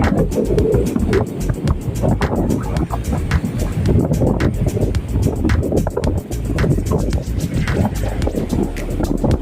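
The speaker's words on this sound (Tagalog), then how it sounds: "Sarap ng hangin talaga, guys." Constant wind gusts buffet the microphone in an open outdoor setting, a continuous rough rumble with water-craft noise underneath.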